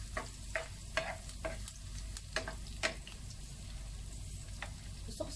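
Garlic sautés in a pan for pancit bihon canton guisado, a soft steady sizzle broken by several sharp scraping stirs at irregular intervals.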